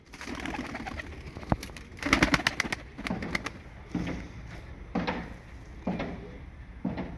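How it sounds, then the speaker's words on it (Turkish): Low, repeated cooing from pigeons, with soft fluttering and shuffling noises scattered throughout; no talking. "Bunlar da yere serdiğim kuşlar."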